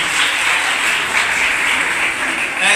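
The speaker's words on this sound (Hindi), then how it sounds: "मनोज के लिए जोरदार तालियां होनी चाहिए।" An audience breaks into loud, continuous applause at a beauty parlour camp event, many hands clapping together in a dense, steady wash for a few seconds.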